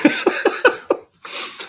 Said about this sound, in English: Just cough something up.